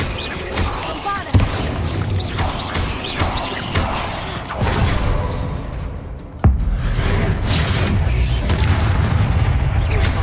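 Bombarda blasting spell explosions in Hogwarts Legacy: loud booming blasts and crashing impacts over dense, continuous game combat noise, with sharp hits recurring across the stretch and no pause.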